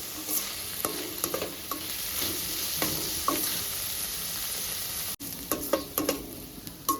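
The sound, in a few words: mutton liver frying with fenugreek leaves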